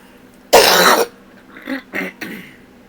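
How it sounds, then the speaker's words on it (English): A person still recovering from choking lets out one loud, harsh cough, followed by three shorter, softer throat-clearing coughs, close to the microphone with no talking. "I'm still going to be coughing for a little while"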